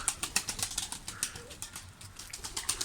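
Rapid, fluttering wingbeats of pigeons, a quick run of soft clapping flaps repeating throughout, fairly faint.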